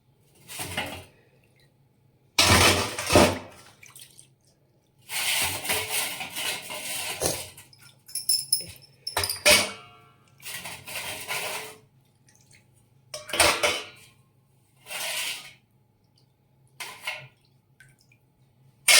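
Brass household items, including elephant figurines, are dropped and handled in water, giving repeated splashes, drips and metallic clinks in bursts with quiet gaps between them.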